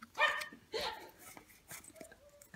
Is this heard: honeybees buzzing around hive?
no